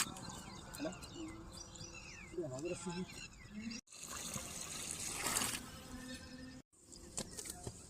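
Water poured onto newly planted peach, jamun and jackfruit saplings outdoors, a close trickle and splash running under nearby talk with birds chirping in the background.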